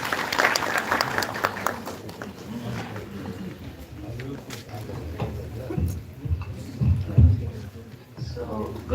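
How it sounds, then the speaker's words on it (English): Scattered applause patters from a conference audience, fading in and out amid murmuring and a rumbling background, with voices talking over it. "A big round of applause, guys."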